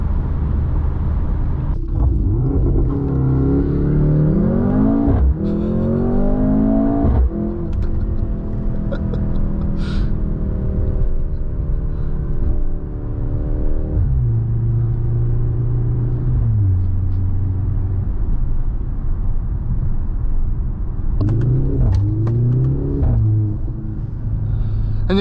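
A 2024 Mercedes-AMG GLC 43 engine drives through snow, heard from the cabin as a low rumble that rises and falls through several gear changes and throttle blips over a steady road hum.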